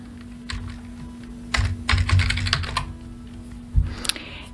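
Fingers type on a computer keyboard, close and crisp, with scattered keystrokes building into quick clustered bursts and a final firm tap, no voices.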